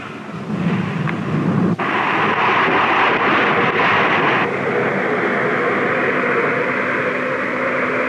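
A 1960s ski-equipped aircraft on the South Pole skiway after a radar-guided landing, a loud continuous engine roar with wind rush that swells after a couple of seconds, holds steady, then eases slightly.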